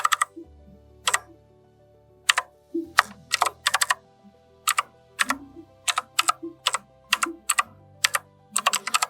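A website URL typed on a computer keyboard: close, crisp keystrokes in irregular bursts of two to four taps with short pauses between, over a faint low background drone.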